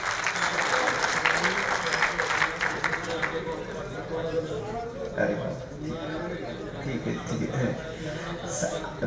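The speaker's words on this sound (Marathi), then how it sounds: "ठाण्यातील समाज बांधवांसाठी देखील जोरदार टाळ्या होऊ देत" An audience at the inauguration of a literary conference in Solapur breaks into loud applause that thins out over several seconds, while voices talk over it.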